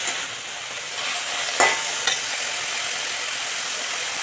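Amaranth greens (note shak) fry in a pan with a steady, close hiss of sizzling, broken by two brief clinks of a utensil stirring partway through.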